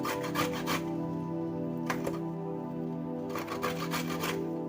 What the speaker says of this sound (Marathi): आवळे आपण उकडून वगैरे घेतलेले नाहीत, जे घेतलेले आहेत ते आवळे कच्चेच आहेत।